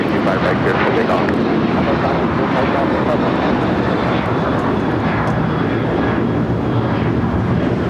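A United airliner departs from runway 25 right at LAX, its engines roaring loud and steady throughout with a broad, continuous rumble, and radio-style talk faintly mixed in.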